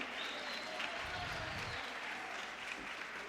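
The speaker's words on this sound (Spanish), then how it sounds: "Un fuerte aplauso." Applause from the audience at a political seminar, fairly faint and distant, a steady even patter of clapping with a brief low rumble partway through.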